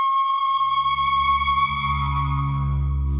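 A Soundpaint 2001 Piccolo Flute Shire virtual instrument sustains a steady flute tone with a deep sub-octave layer fading in beneath it, a continuous, even, loud synthetic note with no talk.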